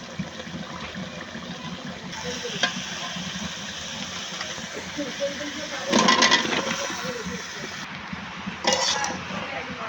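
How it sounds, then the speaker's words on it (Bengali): Koi fish curry is stirred and fried in a pan with the fish masala. A spatula scrapes and clinks against metal over a steady low sizzle, with a couple of louder clattering bursts, close and continuous. "মাছ কষানো মশলার সাথে আমি তরকারিটা কষিয়ে নিচ্ছি।"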